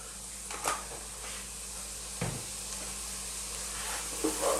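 Chicken soup vegetables seasoned with salt and black pepper sizzle in a pot over below-medium heat, a steady close hiss with a few soft stirring scrapes and knocks.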